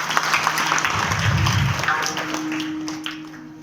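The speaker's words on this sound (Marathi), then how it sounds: "स्वतःसाठी टाळ्या वाजवा." Audience applause at a Marathi kirtan, a broad sustained wash of clapping that swells and then tapers, with a steady tone underneath toward the end.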